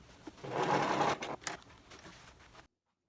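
Sewing machine stitching the side seam of wild patterned jeans being made into an apron, a steady close whir for about two seconds with short bursts after it, then silence.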